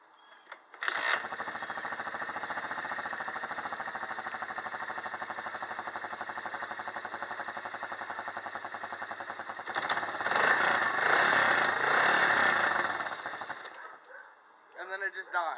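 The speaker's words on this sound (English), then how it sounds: "I'm having to kickstart it because the battery's not hooked up" 1992 Honda Fourtrax 300 ATV engine being kickstarted with its battery disconnected; it fires and settles into a fast, steady rattling idle, swells louder for a few seconds, then cuts out and dies abruptly.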